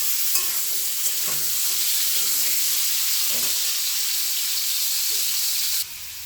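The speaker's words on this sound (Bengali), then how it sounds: "পনির আর আলুগুলো ভালো করে ভেজে নিয়েছি" Paneer and potato pieces fry steadily in a pan, giving a loud, continuous oily sizzle with occasional light clinks and pops, until it drops off abruptly near the end.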